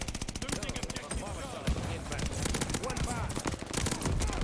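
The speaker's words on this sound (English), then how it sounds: "the fire rate and the silencer sounds are just cool" A suppressed Nikita AVT rifle fires rapidly in Call of Duty: Vanguard, a fast, even stream of muffled shots broken by short pauses and restarts, close and dominant over faint game sounds.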